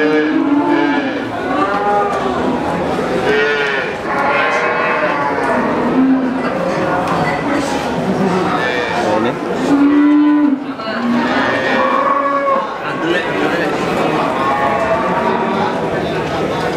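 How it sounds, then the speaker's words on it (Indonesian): Friesian Holstein dairy calves at a cattle market in Boyolali, Central Java, moo repeatedly and loudly up close, their overlapping calls continuing over a busy background of market noise and people talking. "Sapi bibitan atau sapi pedet perah."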